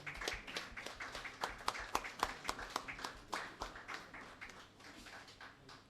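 Applause from the audience at an award ceremony in Aurangabad for a recipient honoured for helping needy people: a faint, steady run of individual claps, fairly quiet and even, tapering off toward the end.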